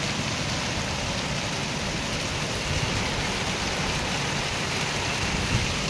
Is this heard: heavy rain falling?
yes